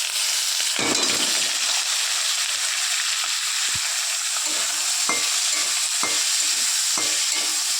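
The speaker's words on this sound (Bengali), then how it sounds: "তো আলু আর গাজরটা একসাথে আমি ভেজে নেব।" Potato and carrot fry in hot oil with curry leaves, cumin and dried chilli, making a loud, continuous close-up sizzle with occasional pops and stirring knocks.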